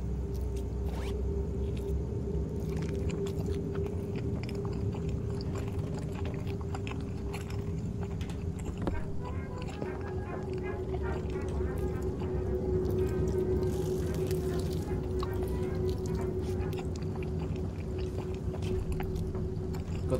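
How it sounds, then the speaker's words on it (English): Wet, squishy chewing sounds from a video game play continuously under a steady background hum, close and moderately loud throughout with no talk. "Chewing noises make me so fucking hungry"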